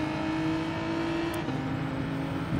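Race cars at Laguna Seca in Gran Turismo 7 during an overtake: a steady engine drone with a high whine that dips in pitch as a car passes, with a brief sharp click midway, continuous and close.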